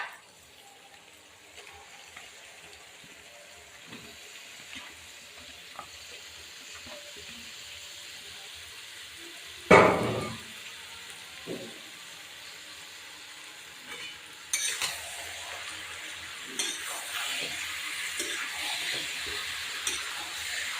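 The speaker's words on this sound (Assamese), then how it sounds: "পিঁয়াজবোৰ ৰঙা হ'ল, এতিয়া মাংসবোৰ দি দিম তেলত" Meat added to hot oil after browned onions sizzles with a sudden loud hiss, then settles into a steady frying crackle with stirring scrapes.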